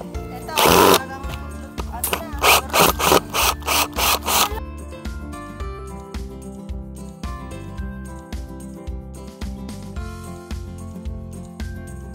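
Old screws are backed out of a wooden garden bed with a tool, giving a burst of harsh rasping grinds followed by a long stretch of quieter rhythmic creaking and scraping, close up, while a voice talks over it.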